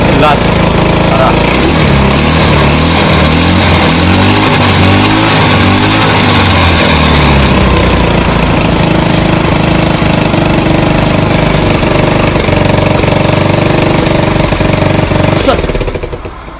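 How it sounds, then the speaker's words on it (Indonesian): A motorcycle fitted with twin-spark dual ignition revs hard and loud at close range, its engine note climbing and wavering in bursts before settling into a rough, rattling roar that cuts off at the end. "Suara motornya udah nggak jelas."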